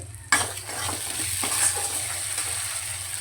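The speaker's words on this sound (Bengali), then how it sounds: "মশলা থেকে যতক্ষণ না তেল ছাড়ছে মশলাটা খুব ভালো করে কষিয়ে নিতে হবে" Spice paste frying in oil and being stirred for a vegetarian fig curry, a strong continuous sizzle with a couple of spoon knocks against the pan, close and steady.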